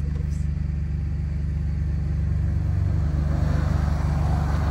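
A car passing on a winter race track, a steady low engine rumble and drone that builds slightly as it approaches, with people talking over it.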